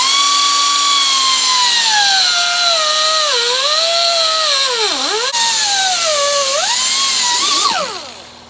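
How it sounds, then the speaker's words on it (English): Air rotary cutter with a cutoff wheel slicing through a radiator hose, a loud, close, high-pitched whine that dips and recovers in pitch as it bites, then winds down at the end. "we're going to use our old trusty old air chisel here, or air rotary cutter, and I'm going to cut right in the center of that"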